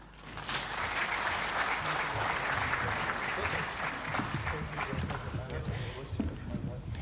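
Audience applause at an aviation MRO general assembly session, a dense sustained clapping from a large crowd that holds steady for several seconds, fairly distant and even.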